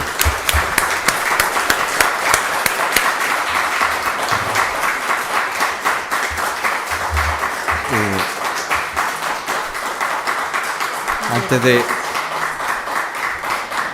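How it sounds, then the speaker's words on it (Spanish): An audience at a presentation event applauds warmly with a steady wash of clapping throughout, while a couple of brief voices sound over the applause partway through. "un aplauso para Maribel."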